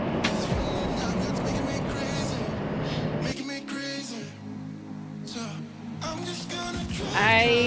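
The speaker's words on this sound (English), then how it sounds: "all of a sudden there's all kinds of trucks and traffic backed up" Heavy highway traffic backed up with semi trucks, a dense steady roar of car and truck engines, then a quieter stretch of idling rumble with an air-brake hiss, and traffic noise swelling again at the end.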